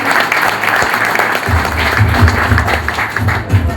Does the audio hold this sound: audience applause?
yes